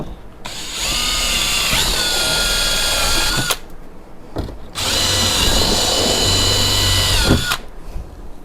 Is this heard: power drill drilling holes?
yes